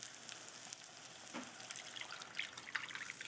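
A watery peanut mixture for Senegalese mafe pours into a cooking pot, making a faint, soft splashing and sizzling trickle with a few light drips over a few seconds.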